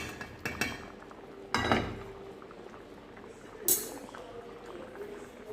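Soft, steady bubbling of a pot of Jamaican stew peas with pigtail and beef simmering close by, with a few sharp clinks of a utensil against the pan breaking through.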